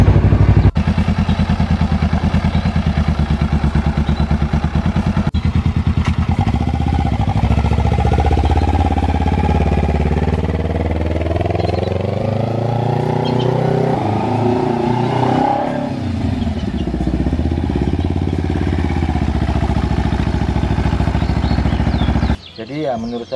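A customized Kawasaki Ninja Z250 two-cylinder motorcycle, rebuilt in Honda CB style, roars loudly and up close on a test ride, revving up and down through the gears with a deep, continuous engine drone.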